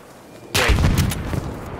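Gunfire hitting the player in Battlefield V: a sudden loud burst of close shots and impacts slams in after a quiet half second, then continues as dense rattling fire with a couple of sharp cracks.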